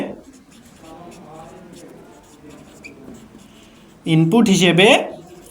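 Pen or marker writing out a flowchart or program steps during a class lesson, soft scratchy strokes running under a teacher's talk, with a louder burst of writing near the end.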